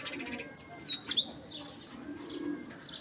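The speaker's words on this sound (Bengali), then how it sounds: "আর এইসব কবুতর ভিডিও করতে প্রচুর ঝামেলা ভাই, আসলে খাঁচার মধ্যে স্থির থাকে না।" Giribaj pigeons in a cage give soft coos and chirps, with a few brief louder calls and light fluttering early on, then quieter cooing against low background noise.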